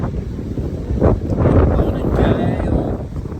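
Strong wind in Burnie, Tasmania, buffets the microphone with a continuous low roar and gusting rumble, loud and close, swelling and easing without pause.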